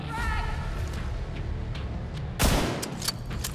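Gunfire in The Division 2, a sharp burst of shots standing out near the middle over steady game ambience and lower rumbling.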